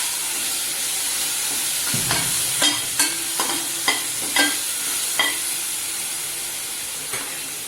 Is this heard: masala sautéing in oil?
yes